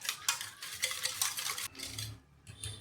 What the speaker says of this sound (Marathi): आणि आता आपल्याला छान मिक्स करून घ्यायचं आहे